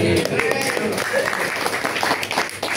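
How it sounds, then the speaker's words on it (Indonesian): Brief applause from an audience at a mosque council (DMI) installation ceremony, a dense patter of clapping that fades in under faint voices. "Tepuk tangan."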